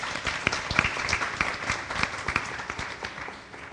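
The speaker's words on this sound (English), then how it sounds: "So let's give them all a wonderful round of applause, please." Audience applause at a Sunday morning temple service, a dense burst of many hands clapping that gradually fades toward the end, heard alone.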